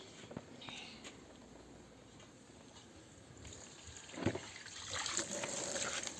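Water poured and trickling during homemade village butter churning in a butter-churn machine, a quiet continuous splash with a brief gush near the middle and a fuller stream toward the end, in the background under faint voices.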